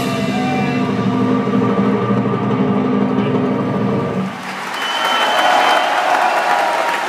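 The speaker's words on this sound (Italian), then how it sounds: "Applausi per tutti" Orchestral music from the final part of Donizetti's opera L'elisir d'amore, staged in Wiesbaden, ends and gives way to loud, sustained audience applause filling the hall for the rest of the moment.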